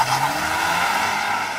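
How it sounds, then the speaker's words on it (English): A new four-wheel-drive Mini Countryman makes a launch-control start with slight wheel spin: a loud, steady engine roar with a faint tire squeal that carries on through the full run-up. "Little bit of wheel spin for the four-wheel drive system, but it hooked up."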